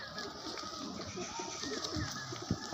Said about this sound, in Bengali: পায়রা দেখুন, খুব সুন্দর পায়রা।